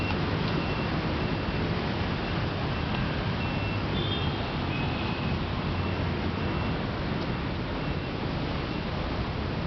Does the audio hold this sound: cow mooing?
no